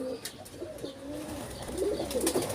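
Pigeons coo softly near a nest where a nervous mother pigeon guards her chicks. The low murmuring cooing is steady and fairly faint.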